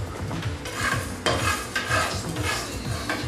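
Mustard seeds and cardamom fry in a hot pan for a Cape Malay lamb curry, sizzling while a utensil stirs and scrapes the pan. Seeds crackle and pop close by in an uneven rhythm, with no talking.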